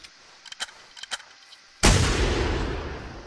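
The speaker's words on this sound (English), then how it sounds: "I shot him point blank" A buckshot shotgun blast fired point blank in theHunter: Primal, a single loud, close boom with a long decaying tail, following a few soft clicks and handling noises.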